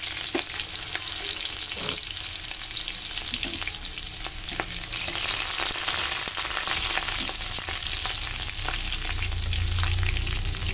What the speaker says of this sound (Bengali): এবার দেবো একটু কালো জিরে ফোড়নে দিলাম, আর দিয়ে দেবো কাঁচা লঙ্কা চেরাগুলো।